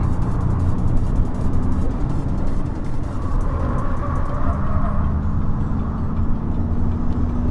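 A 2021 Ford Mustang Mach-E driven hard on a winding canyon road, giving a steady, loud roar of road, tire and motor noise that holds for the whole stretch, with no voices.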